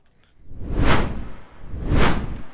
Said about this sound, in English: we're whooshing